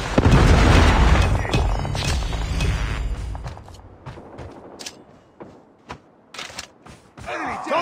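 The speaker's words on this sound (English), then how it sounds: "Predator missile inbound." A predator missile strike in Call of Duty Mobile team deathmatch lands as a loud, heavy boom that rolls off into a decaying rumble, followed by scattered sharp gunshots and brief game voice callouts.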